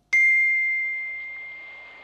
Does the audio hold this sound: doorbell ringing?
yes